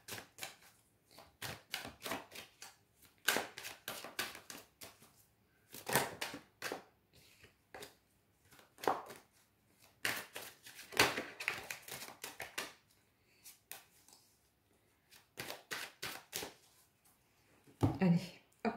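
Oracle and tarot cards being drawn and shuffled during a card reading: a long run of crisp, close-up slaps and flicks, irregular and quick, with brief pauses and a heavier thump near the end.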